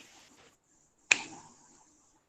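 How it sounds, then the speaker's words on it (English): A single sharp hand clap rings out clearly in a quiet room during a mindfulness session, followed by a short decaying echo. "Just clap."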